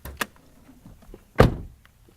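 A 2008-era BMW 316d E90 saloon has its bonnet released and lifted, giving a short click followed by a louder clunk and rattle of the panel, close and alone in a quiet setting.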